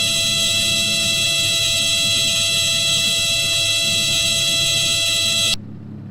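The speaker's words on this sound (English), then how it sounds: "the stall warning should come on just above 40 knots" A Cessna 152 stall warning horn in a flight simulator blares as one loud, continuous tone for about five seconds, then cuts off abruptly, leaving a faint background hum.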